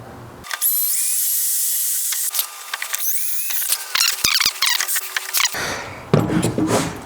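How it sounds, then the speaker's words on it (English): A power drill with a 1/4 inch bit whines at high speed through a hole, running steadily for several seconds, then stuttering and grinding rougher toward the end. "So I'm going to drill out use a 1/4 inch bit"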